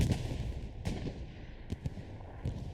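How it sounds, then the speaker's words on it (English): Artillery fire in Hell Let Loose during an infantry push, heard as a dull rumbling background of distant booms, with a few sharper thuds and cracks rising briefly above the low roar. "Nice combination artillery with the infantry push in."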